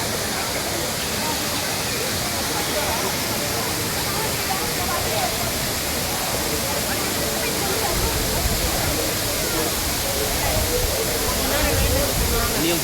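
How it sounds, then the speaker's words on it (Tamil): A forceful waterfall roars close by in a dense, unbroken rush of water, loud and steady, with a voice faintly under it. "தண்ணி உண்மையாகவே நல்லா ஃபோர்ஸாக இருக்குது."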